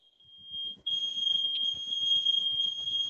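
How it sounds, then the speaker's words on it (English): A house fire alarm blares a loud, continuous high-pitched tone, briefly pausing then resuming, with faint low rumbling beneath it. "Our fire alarm's going off."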